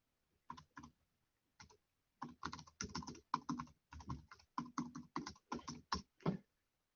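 A password is typed on a computer keyboard in quick clusters of soft, close keystroke clicks separated by short pauses, with no talking.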